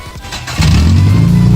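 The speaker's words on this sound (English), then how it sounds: "Mad exhaust leak right now." A 1996 Subaru Legacy Outback, lifted on Forester struts and springs, revs up with a leaking exhaust, its engine note jumping to a loud, steady, rough drone close by.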